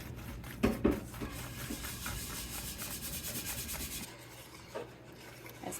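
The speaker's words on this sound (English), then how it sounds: "we can use our little whisk, and we're just going to keep this moving until it thickens up" A small whisk scrapes and swishes steadily around a pan of thickening chocolate gravy, a quiet continuous rubbing with a couple of brief louder knocks near the start, heard alone.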